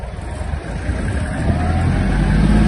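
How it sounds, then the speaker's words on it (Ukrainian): Kubota GL-320 mini tractor pulling away in fourth gear, its engine note rising steadily and growing louder over a few seconds, heard close with no talking. "Ось так тракторець наш розганяється"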